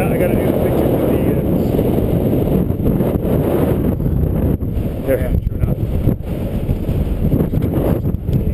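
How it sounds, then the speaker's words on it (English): Strong gusty wind on the summit of Mount Adams roars and buffets against the microphone, a dense low rumble that surges and dips throughout, loud and close. "let that wind blow and blow me over"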